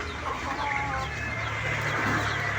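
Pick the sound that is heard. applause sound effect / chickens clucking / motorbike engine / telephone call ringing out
chickens clucking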